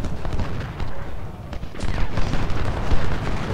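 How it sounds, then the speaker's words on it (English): Musket volleys in the Civil War strategy game Ultimate General rumble and pop in a dense, continuous fusillade with low booms, heard under a speaking voice. "they're just wasting bullets on the Iron Brigade skirmishers"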